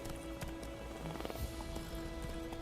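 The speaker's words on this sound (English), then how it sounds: "This is Roach, our horse companion, and he will be traveling with us through the entirety of the game" Roach, a horse in The Witcher 3, trotting with steady, fairly quiet hoof clip-clops over a low game background.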